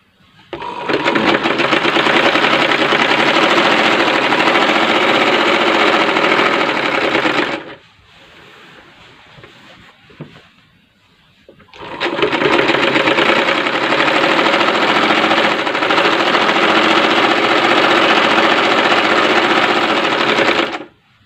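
Sewing machine stitching a round-necked maxi dress, running loud and close in two long continuous bursts separated by a quiet pause of about four seconds.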